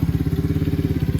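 A warmed-up 125cc Venom ATV engine idles nearby with a fast, even, throbbing putter, loud and steady with no talk over it.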